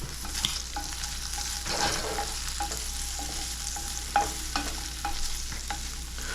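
Pancetta frying in a pan, a soft steady sizzle with light stirring clicks and scrapes at irregular intervals, fairly quiet and close, no voices.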